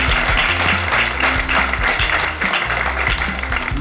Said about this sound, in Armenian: բարձր ծափարում ենք Ինայի